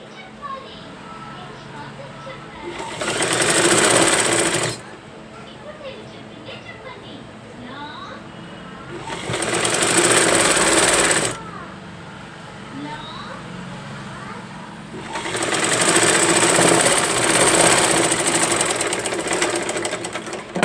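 A sewing machine stitching blouse cloth runs in three loud bursts of rapid whirring, each lasting a couple of seconds, with quieter pauses and a voice talking in between.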